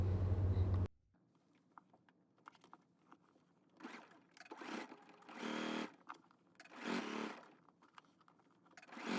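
Sewing machine understitching a garment facing, running in several short bursts separated by quiet pauses, fairly close and alone after a brief louder noise at the start.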